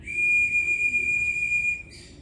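A whistle used to call pigeons sounds one long, steady, piercing tone for nearly two seconds, then breaks off into a short higher chirp, close and clear over quiet outdoor background.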